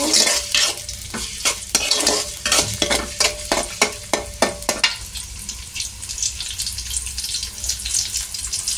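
Food being fried and stirred in a pan on a gas stove until lightly browned, with a series of loud rhythmic scraping stirs over a steady sizzle for about five seconds, then a softer continuing sizzle.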